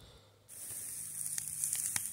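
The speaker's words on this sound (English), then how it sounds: "And listen to that beautiful sizzle." Grill grate set over burning charcoal in a double-barrel retort, giving a steady close hiss and sizzle with faint crackles and a few sharp pops toward the end.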